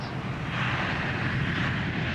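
An EasyJet airliner's jet engines roar steadily during the takeoff roll, a broad, dense rumble heard from inside the cockpit, loud and unbroken throughout.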